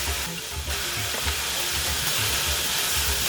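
Onion and garlic frying in a pan with bay leaves added, a continuous close hiss and sizzle that stays steady throughout, with faint clinks of stirring.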